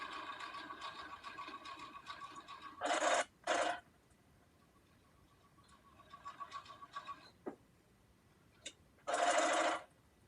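Sewing machine stitching a paper-pieced tulip quilt block, two short bursts, a brief pause, then another run, each a dense buzzing whir, close and alone with no talk.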